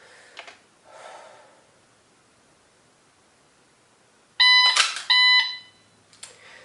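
A shot timer gives a loud electronic beep during dry fire pistol practice, a single tone lasting about a second after quiet rustling, with faint shuffling before and after.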